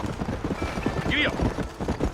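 Horse hooves clip-clopping at speed in the Red Dead Redemption video game, a quick rhythmic patter under a voice, with a brief whinny partway through.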